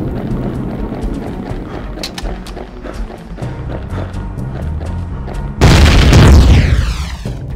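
A booby-trapped elevator blows up in the video game Ironfall Invasion: a sudden loud boom with a crackling, decaying burst cuts through steady game noise, thuds and clatter near the end.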